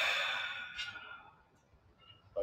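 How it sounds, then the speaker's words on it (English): A deep, breathy exhale or sigh, loud at first and slowly fading, followed by a brief sharp intake of breath at the end, with no talking. "take 3 big deep breaths before we start round number 2"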